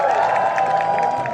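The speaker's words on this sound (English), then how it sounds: "Give them a round of applause." A crowd at an outdoor youth climate rally claps and cheers in a dense, steady wash of applause with scattered whoops and shouts, loud and close throughout.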